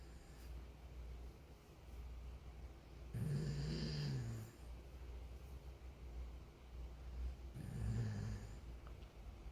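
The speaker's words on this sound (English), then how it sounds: "If you can hear Diesel, my dog, snoring" A pet dog named Diesel snores softly in a quiet room, two slow drawn-out snores a few seconds apart over a low steady hum.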